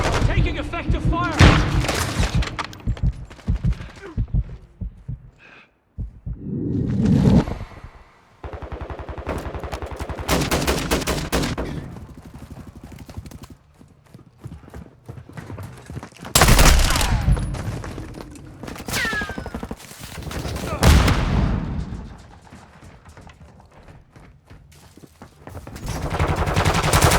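Call of Duty Modern Warfare team deathmatch gunfire: repeated bursts of automatic fire and single shots, loud and close, with pauses and a few heavier booms, now and then under short shouted in-game callouts.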